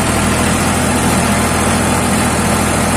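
A New Holland 3230 42 HP tractor engine, fitted with a 7 ft rotavator, is held at about 1700 RPM. Its drone is loud, close and steady from start to finish, with no talk.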